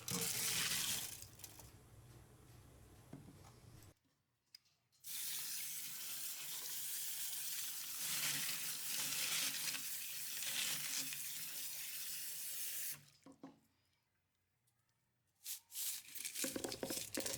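Tumbler media being dumped out of a barrel and rinsed under running water, a loud, steady rushing and crinkling wash that stops abruptly twice, leaving short quiet gaps.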